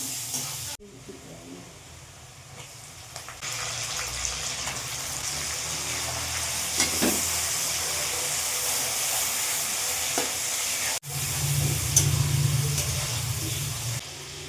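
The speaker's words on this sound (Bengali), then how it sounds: "মাছের তেল দিয়ে পুঁই শাক রাখবো এখন আমি।" Malabar spinach (pui shak) frying in fish oil, a broad steady sizzle and hiss that swells loudly after a sharp drop, with occasional clinks, close and continuous without talk.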